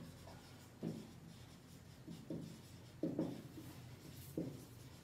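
Pen or chalk writing auxiliary equations during a maths lecture, several faint scratchy strokes in short bursts spaced about a second apart in a quiet room, no talk heard.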